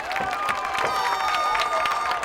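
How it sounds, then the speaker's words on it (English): Pinkerton Academy football crowd cheering and applauding from the bleachers after a 29-yard touchdown pass, a dense, steady roar of shouts and clapping that stays loud throughout. "And that brings the Pinkerton Academy crowd to its feet."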